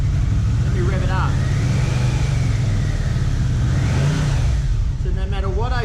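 A Yamaha Vmax motorcycle with a battery that keeps going flat has its engine revved, rising and falling loudly close by while someone talks over it.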